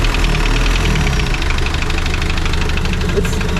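Engine of a Spryte project vehicle with an Allison transmission running right after its first startup, a loud, steady idle with a knocking, rumbling pulse that continues without a break.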